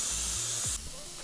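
Handheld steam cleaner blasting pressurised steam while cleaning a kettle in a kitchen, a loud, close, steady hiss that cuts off abruptly after about a second, with a brief low thump underneath.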